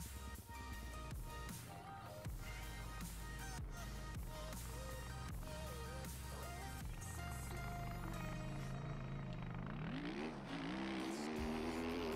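In the MX Bikes video game, a motocross bike engine revs on a practice start in a Daytona supercross round, buzzing steadily with repeated throttle blips, then climbing in pitch as it accelerates away near the end.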